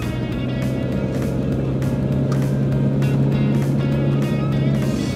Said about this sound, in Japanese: エンジンうなってるんだけど